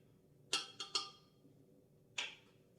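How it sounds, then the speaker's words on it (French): A spatula scrapes down the inside of a Thermomix TM6 bowl during chocolate tart preparation, giving four short, crisp scraping strokes: three in quick succession, then one more after a pause, close and fairly quiet. "Je vais prendre une spatule et le faire descendre"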